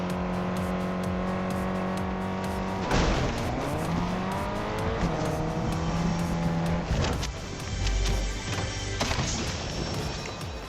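Old cars driving in Fortnite Chapter 2 Remix, engines revving and shifting pitch through several accelerations and gear changes, with occasional tire squeal, loud and continuous over about ten seconds.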